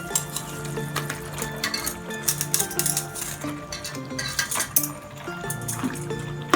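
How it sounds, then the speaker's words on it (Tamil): Pasta is stirred with masala powders in a metal pan, the spoon clinking and scraping steadily in close, loud rhythmic strokes, with a faint sizzle beneath and no talking. "சேர்த்து மசாலா விட நல்லா கிளறி விட்டுருங்க"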